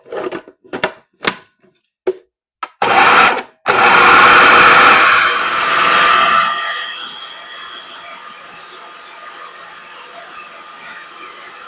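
Roasted garlic hummus whirs in a food processor: several short pulses at first, then a loud steady motor drone that spins for a few seconds before winding down into a fading hum.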